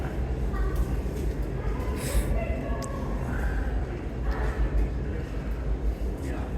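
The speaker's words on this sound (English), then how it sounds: "so the N train is coming first" A New York subway N train pulls into Chinatown station, a steady loud low rumble filling the platform with brief higher squeals and clanks over it, and no voices.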